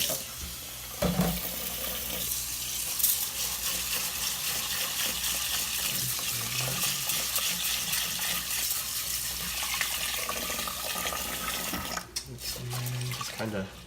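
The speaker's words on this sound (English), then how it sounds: "Just kind of scrub it around a little bit." Rice being scrubbed by hand in cold water in a sink or bowl while washing it for Kapampangan bibingkang kalamay sweet rice, a steady close watery swishing with running-tap wash throughout and a short break near the end.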